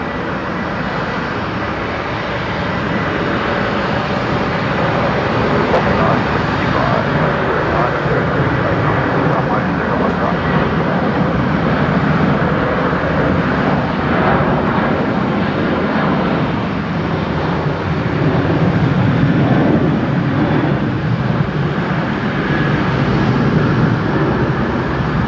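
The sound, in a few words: Virgin Australia (Velocity) jet departing Brisbane Airport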